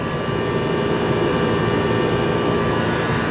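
A walk-in freezer compressor unit at a school lunch facility runs with a constant loud, broadband roar and hum, steady throughout with no talking.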